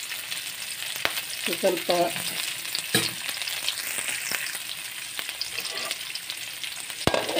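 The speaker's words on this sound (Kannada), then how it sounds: "ನೀರುಳ್ಳಿ, ಇದನ್ನು ನಾವು ಒಗ್ಗರಣೆಗೆ ಹಾಕ್ಕೊಳ್ಳುವ." Onion sizzles in hot oil for a tempering, a steady close frying crackle with occasional stirring scrapes and taps, and a brief spoken word.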